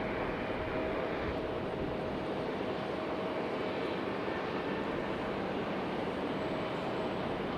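Airliners, among them a Breeze A220, taxi at Raleigh-Durham International Airport. Their jet engines make a steady, distant roar with a faint high whine over it.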